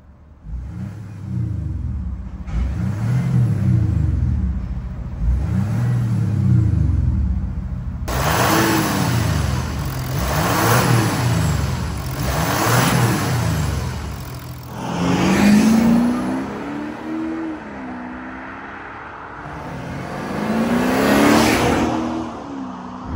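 An Audi SQ5 TDI diesel engine revs up repeatedly, with rising and falling surges of rpm, close and loud, without any talking.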